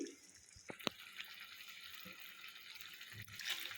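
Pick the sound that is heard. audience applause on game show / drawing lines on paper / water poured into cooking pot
water poured into cooking pot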